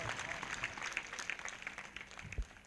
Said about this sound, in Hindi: एक जोरदार ताली बजाएंगे इस वचन के लिए